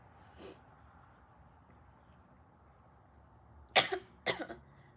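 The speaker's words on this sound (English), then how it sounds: "this stuff from the smoke shop makes me cough more" Three coughs in a quiet room: one faint cough early, then two louder, close coughs in quick succession near the end.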